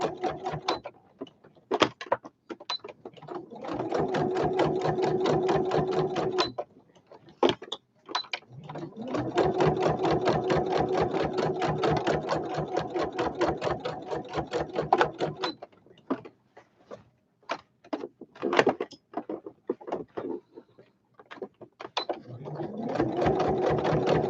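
A sewing machine stitches the handle onto a toiletry bag in loud, steady bursts of rapid mechanical whirring, several seconds each, separated by short pauses and a few clicks.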